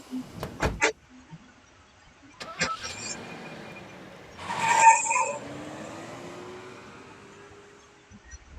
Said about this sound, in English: Once he's out of sight, I get into the car.